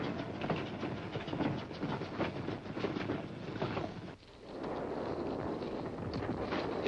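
Trains loaded with war-weary equipment rumble past on a wartime railway, a loud continuous roar with rhythmic clattering of cars on the rails, dipping briefly before the rolling noise returns.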